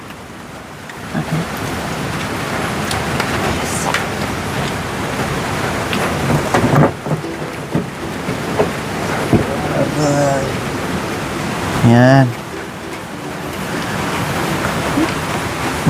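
A typhoon brings steady rain and rolling thunder, a dense roar of wind and water filling the whole stretch, while people talk indoors over the storm.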